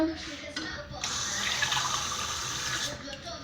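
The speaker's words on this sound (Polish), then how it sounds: "Teraz obmyję zimną wodą." Cold tap water running and splashing over a new mug in a sink, a steady close hiss for about two seconds, with someone speaking briefly before and after.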